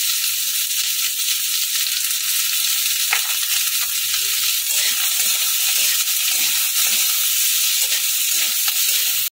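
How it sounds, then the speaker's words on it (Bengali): Potatoes, onion and capsicum frying on high flame while being stirred, giving a steady loud sizzle throughout with faint scraping of the spoon in the pan and no voices. "এবার হাই ফ্লেমে এগুলোকে ভালো করে নাড়বো।"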